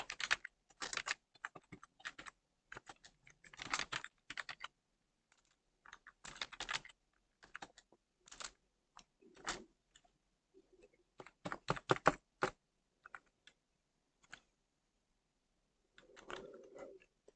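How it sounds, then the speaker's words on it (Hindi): Clicky computer keys are typed in short bursts with pauses between them, close and fairly quiet, as an address is entered into a Microsoft Word document. "एड्रेस के लिए मैं यहाँ पर कुछ भी लिख देता हूँ"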